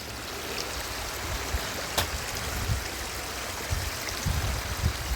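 Floodwater flowing across a submerged paddy field in Wayanad, a steady rushing wash like a stream, with occasional soft splashes and one sharp click partway through; no talking.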